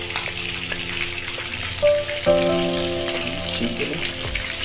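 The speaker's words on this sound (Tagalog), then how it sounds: "Chicken wings, fried chicken wings, diba?" Chicken wings fry in hot oil with a steady, dense sizzle and crackle, close and continuous, with faint clinks over it.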